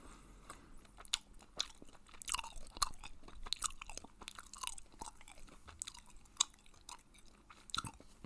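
Hubba Bubba strawberry watermelon bubble gum is chewed close to the mic, soft wet smacks and crunchy bites in an irregular, continuous rhythm with no talking.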